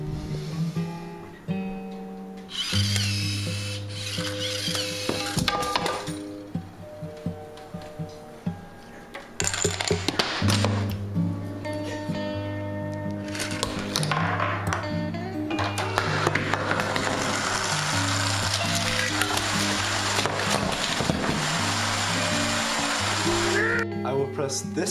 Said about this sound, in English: I will press this button to start the Rube Goldberg machine.